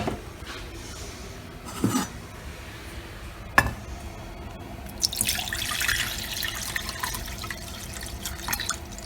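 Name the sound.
tap water running to fill a pot for boiling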